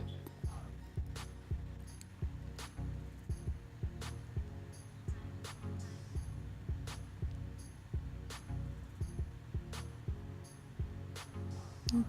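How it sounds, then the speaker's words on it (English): An electric stand mixer beats butter, sugar and sour cream in a bowl, giving a low steady churning hum with a regular rhythmic thump from the beaters, close and continuous. "So I start out with the butter, sugar, and sour cream in a mixer, and I get that mixing for about 5 minutes"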